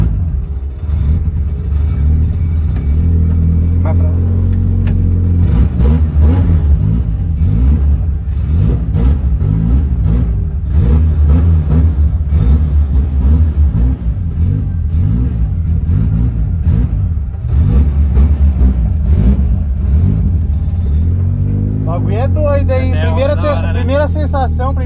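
An Audi TT RS fitted with a new turbo revs and accelerates in a loud, steady engine rumble that swells and eases over about 25 seconds, with the pitch rising near the end.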